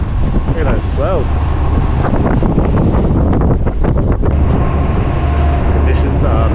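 Steady, heavy wind rushing across the microphone on a dive boat amid ocean swells on the Great Barrier Reef, with people talking over it throughout.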